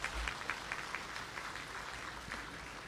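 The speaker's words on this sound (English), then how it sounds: "Please, can you also give a round of applause for him as well?" Conference audience at a cybersecurity event giving a round of applause, a soft, fairly distant patter of clapping in a hall, steady and low in level with no voices over it.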